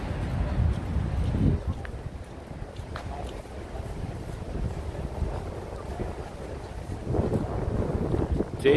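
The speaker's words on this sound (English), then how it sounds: "Wind is picking up." Gusty wind in Times Square, Midtown Manhattan, buffets the microphone with a low, steady rumble that swells in places over a faint city background.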